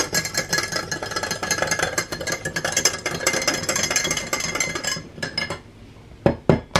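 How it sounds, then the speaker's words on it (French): Sugar being whisked with a mini whisk attachment from a hand mixer: rapid, continuous metallic clinking and scraping for about five seconds, then a brief lull and a few sharp taps near the end. "Et je vais prendre un mini fouet"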